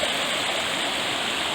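A brook on a hiking trail near East Pond and Little East Pond pours in a steady, full rush of water, close and loud, with no voices.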